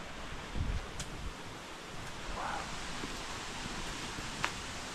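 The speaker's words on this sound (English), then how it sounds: "Wow, another waterfall." A waterfall near an Indian village gives a steady, faint broadband rush of falling water, alone and unchanging throughout.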